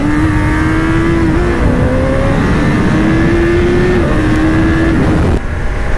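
A motorcycle engine with its rev limiter removed, revving in repeated steady pulls and drops, loud and close with a strong tonal whine, no talking over it.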